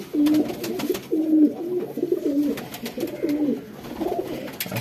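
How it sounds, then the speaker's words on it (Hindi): Pigeon cooing at a kabootarbazi pigeon-keeping setup, a series of low, throaty repeated coos in steady phrases, close and clear, with faint background ambience and no talk. "ये कबूतर है जी जो पकड़ा है आज"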